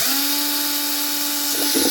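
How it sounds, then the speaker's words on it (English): A basic power drill whines at a steady high pitch while boring holes in a plastic crayfish trap, close and loud, with a brief rougher grind near the end. "So just your basic drill."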